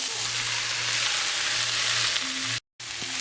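Vegetables, peas and rice fry in a pan with a loud, steady hiss and crackle, continuing after a brief moment of silence.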